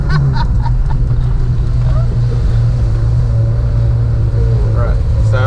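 A 1981 right-hand-drive Honda Accord with a clutch problem pulls away uphill in first gear. Its engine drones loud and steady up close, with wind buffeting the microphone throughout.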